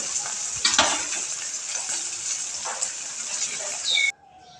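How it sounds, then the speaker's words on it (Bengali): A pan of stinging catfish curry with potatoes sizzles steadily at close range, with a few stirring scrapes and clinks over the bubbling hiss before it cuts off abruptly near the end. "শিং মাছটা রান্না করুম আলু দিয়া।"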